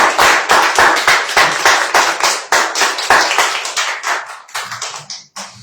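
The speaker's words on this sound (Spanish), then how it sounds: "Dale un aplauso al Rey de Reyes." Church congregation clapping loudly and close in a quick, fairly regular rhythm of sharp individual claps, thinning and trailing off unevenly toward the end.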